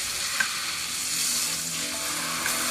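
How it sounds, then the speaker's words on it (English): Beef tenderloin searing in a hot pan with sliced fresh garlic gives a steady, close, bright sizzle that holds evenly throughout with no talking. "I've added sliced fresh garlic and the tenderloin. Sear on all sides, sealing in the juices. I love that sizzle"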